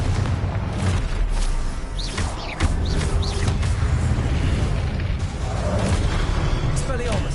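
Confringo spell blast from the video game Hogwarts Legacy: a loud booming burst near the start, amid dense, continuous spell effects and rumbling combat noise, with a voice speaking over it.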